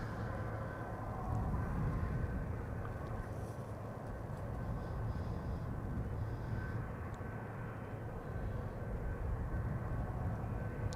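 A KLM Cargo Boeing 747 operated by Martinair taxis at Schiphol Airport, its engines giving a steady low rumble and broad roar that holds constant and moderately loud throughout, with no talk.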